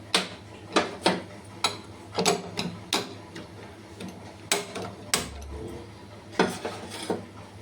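A gas stove being switched on under a saucepan of water, heard as a steady run of sharp mechanical clicks like an igniter ticking, fairly close and with no voices.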